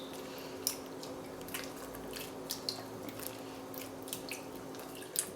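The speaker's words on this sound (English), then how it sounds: "And this is our last and 4th time kneading the butter." Homemade cultured butter kneaded in a bowl of water, giving faint wet squishing and soft dripping sounds with scattered small splashes, quiet and close.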